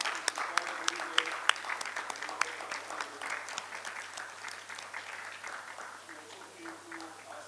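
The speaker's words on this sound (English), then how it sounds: "She deserves a huge round of applause." Audience applause for a speaker at a fireside chat on digital accessibility, starting with crisp distinct claps that blend into a softer, steady patter and fade gradually, with faint voices underneath.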